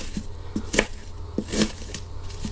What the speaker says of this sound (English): Just roughly chopped.